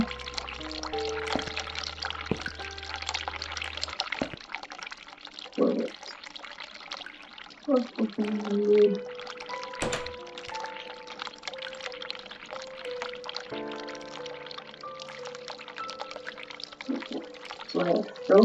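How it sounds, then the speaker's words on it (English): A hot water tap runs in a bathroom in the video game The Cat Lady, a steady pour and splash with a few drips, heard over game music and ambience. "Run hot water."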